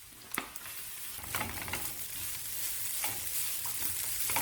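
Cashews and grated coconut are sautéed in a pan while a spoon stirs them, giving a steady soft sizzle with scraping strokes and a few sharper clicks, close and continuous without talk.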